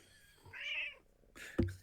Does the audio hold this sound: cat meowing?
yes